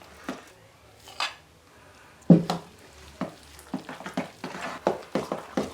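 Spoon stirring a soft cheese mixture in a bowl for Easter paska, scattered close squelching scrapes and taps with a sharper knock partway through.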